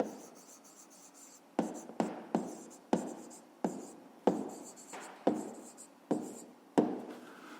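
Pen writing a math answer by hand on paper, close and quiet, with a steady scratching stroke broken by a series of about a dozen sharp taps as the pen lifts and touches down, no talking.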